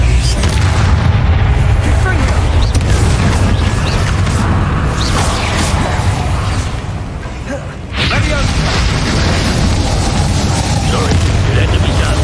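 Repeated Confringo spell blasts from Hogwarts Legacy give a dense, loud, continuous roar of booms and bursts during a battle, with a brief dip in the middle. A player's voice shouts over the din.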